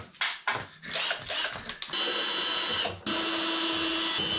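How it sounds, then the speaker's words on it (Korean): A power drill takes off the front cowl of a 2019 Super Cub motorcycle. It starts with short stuttering bursts, then gives two long steady whirring runs with a brief pause between them. The drill is close and loud. "전동 드릴로 하겠습니다"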